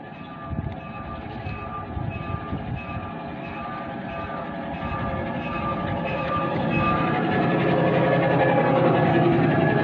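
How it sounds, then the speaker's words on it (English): A miniature railway train at Ruswarp runs steadily with a continuous rumble and rail noise, growing slightly louder toward the end, with no talk over it. "we're going to be going on this train in a minute"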